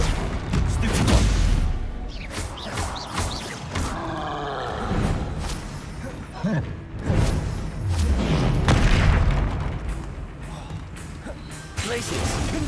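Confringo explosive spell blasts in Hogwarts Legacy combat, loud booms and crashing impacts in repeated bursts amid clattering action and whooshing effects, with voices speaking at times.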